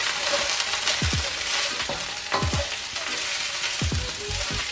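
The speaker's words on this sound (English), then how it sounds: "when I have my noodles in here frying with the vegetables" Noodles frying with vegetables in a pan for vegetarian chow mein give a steady broadband sizzle, with a few soft clanks of a utensil stirring, and no talk.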